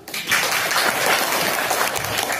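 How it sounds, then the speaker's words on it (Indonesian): A classroom of students claps together for about two seconds, a dense, steady patter of hands that starts abruptly and holds at an even level without voices over it. "Ya, tepuk tangan dulu."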